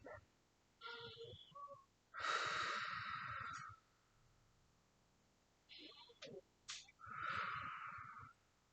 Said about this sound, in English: So you just sit there and breathe.